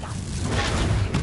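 Confringo blasting spell cast in the video game Hogwarts Legacy: a loud, continuous rumbling burst with a dense low boom and a brief whooshing crackle near the end, heard alone.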